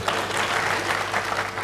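Audience applause at a live Nepali political comedy show, a dense steady wash of clapping filling the whole moment with no pauses or talk.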